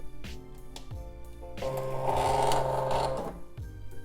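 A Silhouette Portrait 3 cutting machine feeds its cutting mat with short motor whirs, then a steadier, louder mechanical hum for about a second and a half before it stops, close and alone.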